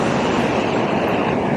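A Shinkansen bullet train moves through a station in the early morning, giving a steady, loud rolling rumble with faint rail clatter that holds evenly throughout, with no talk.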